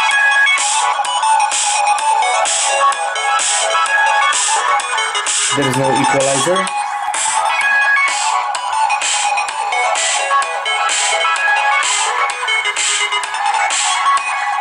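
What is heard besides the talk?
dubstep music playing from Nokia Lumia 920 phone speaker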